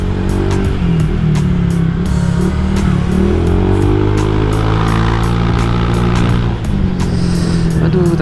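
A Honda Vario 150 scooter engine, freshly rebuilt, revs up close and loud, its pitch climbing and falling through repeated throttle blips before settling back toward idle.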